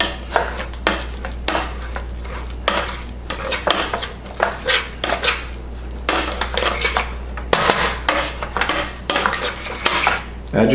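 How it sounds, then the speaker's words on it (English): Cooked potatoes being mashed with heavy cream in a metal pot: a run of irregular knocks and clanks from the masher striking the pot, close up and fairly loud over a low steady hum, with no talking. "So a little bit at a time. Mash them up."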